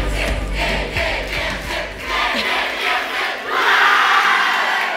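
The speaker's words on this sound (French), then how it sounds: "On a plaisir pour inviter Mathieu du Saint-Joseph College sous autres applaudissements." A crowd roars and claps at a school debate semi-final, broad noisy cheering that swells louder toward the end, with no speech over it.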